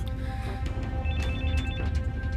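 A telephone rings in a tense scene of the Hindi-dubbed film The Walking Dead, a steady electronic ringtone repeating through the clip over a low rumbling background.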